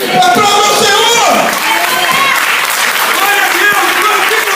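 A church congregation breaking into loud, sustained applause and cheering, dense clapping filling the room with voices shouting over it throughout.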